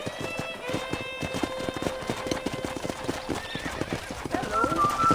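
Steady clip-clop of horse hooves with a horse neighing at a corral in the video game Red Dead, under a man's speech, game-like and close.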